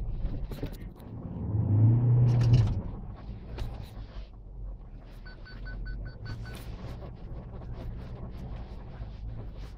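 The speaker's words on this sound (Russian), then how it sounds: "И дальше просто едем на полном приводе." Ford Ranger pickup driving off-road in all-wheel drive, a low engine drone that swells and strains for a few seconds, then settles into a steady interior rumble with faint rattles.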